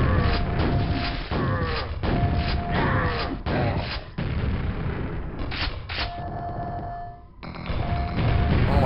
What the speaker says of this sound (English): They're spamming grenades here.